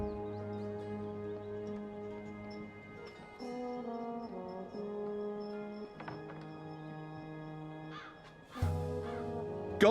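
A talking bird in the video game Dreamfall Chapters gives a few short calls and caws. They come through over a sustained tonal music bed with soft ticks, moderately quiet and close, with no talk.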